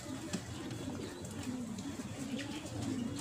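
A pigeon coos softly in low, repeated throaty phrases against a faint background hiss, with no talk over it.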